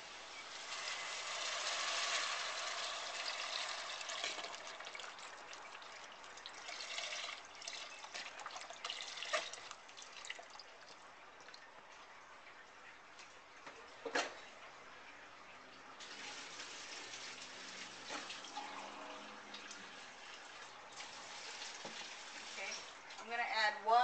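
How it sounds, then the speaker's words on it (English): Chicken broth pours steadily into a soup pot for a long stretch, a soft continuous liquid rush with faint splashes and a few knocks, fairly quiet and close. "what I'm going to do is put in my chicken broth."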